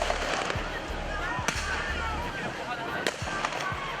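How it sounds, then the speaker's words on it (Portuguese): Sharp blasts and pops from police tear gas bombs and rubber bullet fire at a street protest, several loud transient bangs over a dense, noisy crowd ambience. "os policiais lançaram bombas de gás lacrimogênio e deram tiros de balas de borracha"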